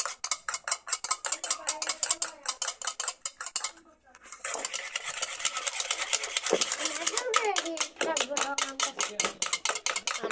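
A spoon stirs a mixture with orange food colouring in a bowl, making rapid, rhythmic scraping clinks against the sides. The strokes pause briefly midway, then resume at an even pace.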